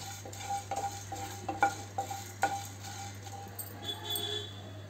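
Dried red chillies, cinnamon, cloves, cumin and coriander seeds being stirred and dry-roasted in a pan, a soft sizzle under a steady hum with sharp scrapes and clinks of the utensil against the metal.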